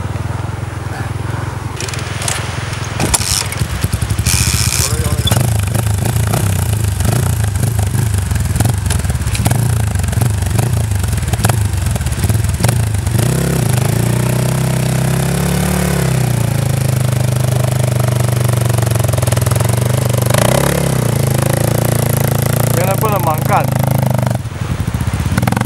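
A motorcycle stuck in soft sand being started and then idling with a loud, steady, close engine rumble that holds throughout, with people talking over it.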